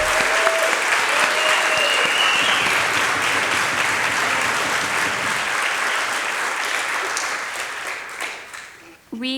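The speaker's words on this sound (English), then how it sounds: "Let's give them another round of applause." Sustained applause fills a school moving-up ceremony for fifth graders, a dense, steady clatter of many hands that carries on for several seconds before thinning out and fading near the end, with some murmuring mixed in.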